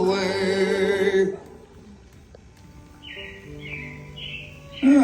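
Animatronic robins at Disney's Carousel of Progress chirp in bright, whistled phrases after singing music fades, with the song bursting back briefly at the end.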